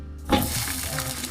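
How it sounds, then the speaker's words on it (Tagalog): Hot dogs fry in a pan with a steady, close sizzle that starts abruptly and keeps crackling evenly throughout. "Prito muna tayo."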